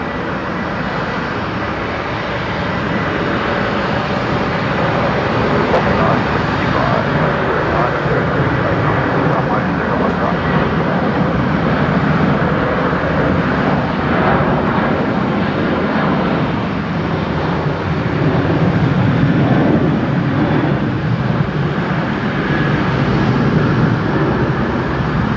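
Virgin Australia Velocity jet taking off at night from Brisbane Airport, a steady broad engine roar that stays loud throughout, with people talking over it.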